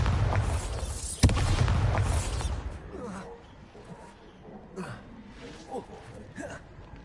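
Bombarda explosion spell in Hogwarts Legacy: a booming blast with a sharp crack at its peak, rumbling for a couple of seconds before dying into quieter scattered game sounds and faint voice-like noises.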